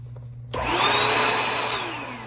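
A rechargeable cordless handheld vacuum cleaner with washable filters switches on after a brief quiet moment, then holds a loud, close, high-pitched motor whine with a steady suction rush that eases slightly toward the end.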